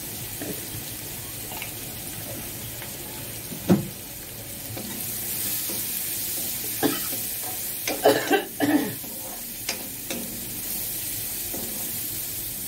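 Banana flower fries in a pan with turmeric and chili powder, a moderate steady sizzle with scattered stirring scrapes and a cluster of sharper clatters midway.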